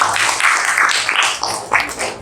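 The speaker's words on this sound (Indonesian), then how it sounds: "Tepuk tangan dulu buat yang Mas" A classroom audience applauds a presenter after a group presentation on social deviance, giving a loud, dense burst of clapping that continues steadily throughout.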